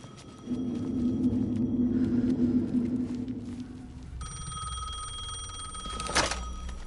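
A telephone rings inside the video game Alan Wake 2, a steady electronic bell with repeated trills that sound moderately loud over a low rumbling ambience, and a sharper burst comes near the end.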